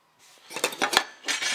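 Metal camping cook set pots and lids clink and clatter together in a few quick, close knocks, a short burst of light metallic rattling with no talking.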